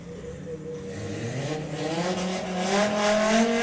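Volkswagen drag cars at the Santa Pod drag strip rev hard, their loud engine note climbing steadily as they accelerate, with no talk over it.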